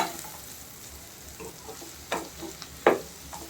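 A spoon stirs ivy gourd fry in a steel pan, giving a few soft scrapes and a sharper metallic clink over a low sizzle, close and quiet, with no talking.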